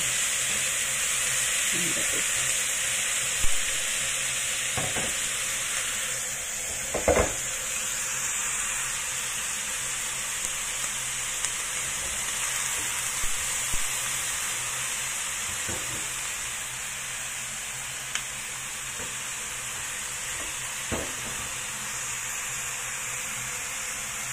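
Chicken browns in a wok for Taiwanese-style chicken curry, giving a steady, close hiss of frying with occasional clanks of stirring scattered through it.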